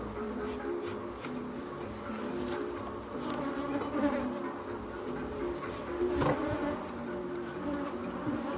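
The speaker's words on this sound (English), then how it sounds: "I noticed these bees, they were gathering on the outside here." Bees gather and buzz around the outside of an old bicycle frame, a continuous close drone of several insects with wings rising and falling, plus faint outdoor background noise and no clear talk.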